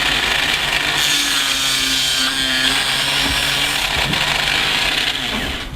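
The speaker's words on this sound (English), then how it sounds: "drilling all of the remaining pieces by putting them in the jig" A power drill whines steadily as it bores through small ship-model cannon carriage wall pieces held in a jig, the motor's pitch shifting slightly under load, running continuously with no talking.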